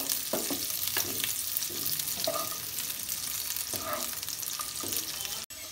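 Pistachios, raisins and other dry fruits frying lightly in ghee in a pan, a steady soft sizzle throughout with occasional stirring scrapes and clinks, no talk.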